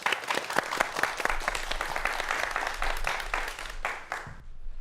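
A studio audience at a televised business lecture claps in a dense, sustained round of applause that fades out abruptly near the end.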